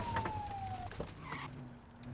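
A police car siren in the video game The Precinct, a faint electronic wail that sweeps down once and then switches to a quieter steady tone beneath low game ambience.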